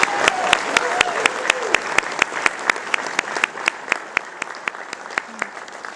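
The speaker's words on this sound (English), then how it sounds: "Let's give all our award recipients a final round of applause." Audience applause at an award ceremony honoring Silver Snoopy award recipients, a steady round of clapping with sharp individual claps standing out, close and sustained, with some faint voices mixed in.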